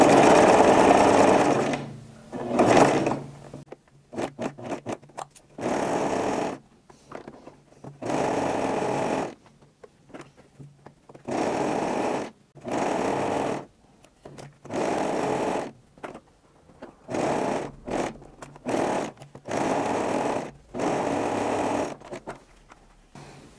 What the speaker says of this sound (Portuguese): Normalmente a máquina que tem zigue-zague tem esse pontinho, é aquele dos três pontinhos, né?